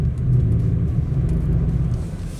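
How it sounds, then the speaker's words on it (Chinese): A car rolling slowly into a wet-surface tyre test area, a steady low engine and road rumble heard from inside, fairly loud and even, no talking. "我们就准备要把车子开进去这个测试场地"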